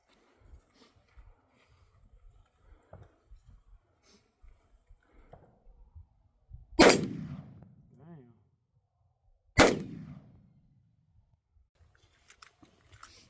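Two sharp, very loud gunshots from a Daniel Defense AR-15 pistol in 5.56 at a shooting range, spaced about three seconds apart, each with a ringing tail, amid faint shuffling and quiet voices.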